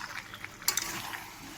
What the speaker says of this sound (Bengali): নাড়াবো। একটু কষাবো,